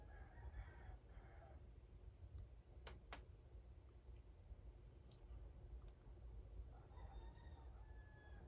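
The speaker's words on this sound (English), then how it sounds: "Y'all hear them chickens?" Faint chickens cluck and crow in the distance over a low outdoor hum, with a couple of sharp clicks in between.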